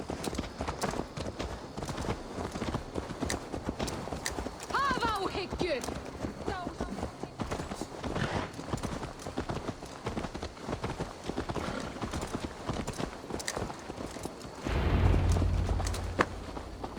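A horse's hooves clip-clop at a walking pace in Assassin's Creed Valhalla, steady repeated thuds under game ambience and character dialogue.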